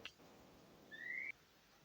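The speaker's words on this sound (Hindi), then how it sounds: "वो सीटी बजाने वाले आते हैं ना, वही थे।" A whistle blown by someone passing outside gives one short, thin, steady tone of about half a second, faint and distant against a quiet room.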